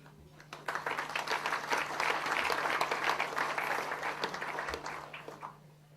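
Audience applause for politicians at an open source in government awards ceremony: a dense round of clapping that swells quickly, holds for several seconds, then thins out and fades.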